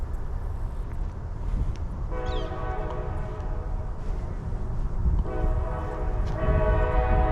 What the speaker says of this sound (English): I hear the train coming.